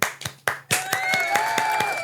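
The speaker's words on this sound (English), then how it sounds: "Let's clap for..." An audience claps at a podcast taping, opening with a few separate hand claps before building into a steady, fairly close round of applause.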